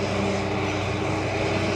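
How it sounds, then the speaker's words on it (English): A tractor cutting hay out in a countryside field gives a steady, unbroken engine drone with a low rumbling hum, heard continuously at moderate distance with no voices. "okay, it's a tractor out in the field."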